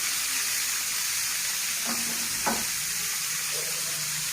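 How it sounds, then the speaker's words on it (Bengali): Sea jaba fish lightly frying in a pan gives a steady, close broadband sizzle and hiss throughout, with a couple of brief sharper crackles midway; no one speaks. "আমি এই মাছগুলো একটু ভেজে নেব, ভেজে রান্না করব। হালকা ভেজে নেব।"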